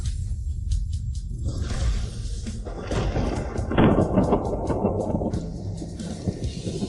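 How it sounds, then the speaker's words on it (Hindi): Thunder, lightning and rain from a water skill in a video game: heavy rolling thunder rumbles under steady rain, with a sharper crackling strike near the middle, loud and continuous throughout. "हवा, बारिश, बिजली और गड़गड़ाहट सब एक साथ हो गए।"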